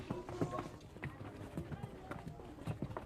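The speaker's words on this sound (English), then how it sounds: "The streets bustle with donkey traffic." Donkey hooves clip-clopping along a narrow town street with an open sewer, a rapid irregular patter of hoofbeats close by amid busy street bustle.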